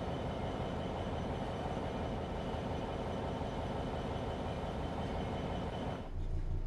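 Simulated high-speed Southeastern train rumbling steadily as it slowly approaches a junction in a train simulator game, a continuous loud low drone with a sudden shift near the end.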